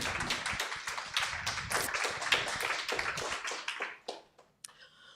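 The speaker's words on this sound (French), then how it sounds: "Des applaudissements pour Betty, s'il vous plaît." An audience claps in a room, a dense burst of hand claps that thins out to a few scattered claps and stops.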